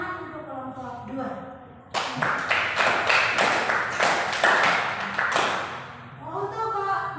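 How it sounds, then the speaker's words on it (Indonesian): A school class clapping for a group of students in a maths lesson, a loud burst of rapid, fairly rhythmic claps lasting about four seconds, with a voice before and after the applause. "Kita tepuk tangan untuk kelompok 2."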